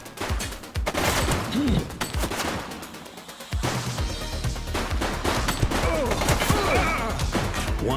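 Gunfire from a suspect in The Precinct video game comes as rapid bursts of loud, close shots, with a brief lull before a second heavy barrage of repeated cracks and crashes.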